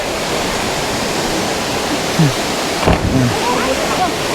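Waterfall at the end of the Paytokan trail in Sagada, a steady broadband roar of falling water filling the whole clip, with brief voices and a few faint sounds breaking through near the end.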